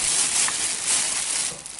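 Crinkly plastic shopping bags rustle and crackle continuously up close, a dense papery shuffle with brief louder crunches.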